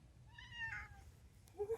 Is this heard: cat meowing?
yes